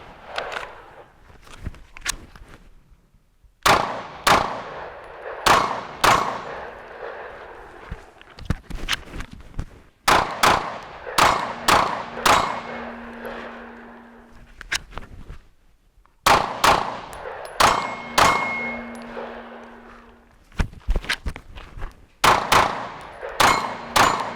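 Pistol shots with a Trijicon RMR red dot sight at an outdoor range come as sharp, loud cracks in quick strings and singles, with pauses between strings and faint ringing tones after some shots.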